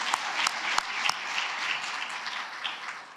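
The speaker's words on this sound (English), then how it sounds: "a round of applause for Raha and the team at Georgetown University" A room full of people applauds a team at a water security event, steady broadband clapping with a few sharper individual claps standing out, sustained for the whole stretch without voices.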